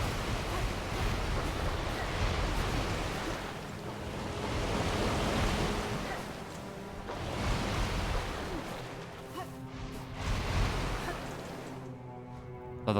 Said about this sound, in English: I thought the lava was the waves of the game because we're right next to a beach